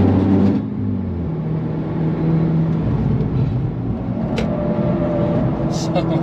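A 528 hp Audi S3 driven fast around the Nürburgring, its engine droning steadily at close range for the whole stretch with a shifting pitch, road roar underneath and brief higher squeals near the end.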